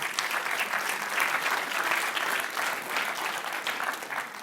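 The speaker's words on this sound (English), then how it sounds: "we have to clap for equations when we have them" A lecture hall audience breaks into sustained applause at a science talk on chocolate art and texture, steady many-handed clapping at moderate level that tapers slightly at the end.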